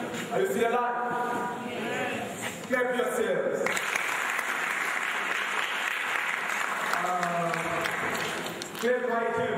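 Graduates clapping for themselves at a first graduation ceremony, a steady wash of crowd applause heard between and under stretches of talk.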